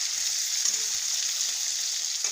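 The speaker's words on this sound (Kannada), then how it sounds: "ಬದ್ನೆಕಾಯಿ ಸ್ವಲ್ಪ ಎಣ್ಣೆ ಒಳಗೆ ಫ್ರೈ ಮಾಡ್ಕೊಳ್ಳೋಣ 1-2 ನಿಮಿಷ" Eggplant fries in a little oil in a pan, giving an even, bright, continuous sizzle close up for a couple of seconds with no speech.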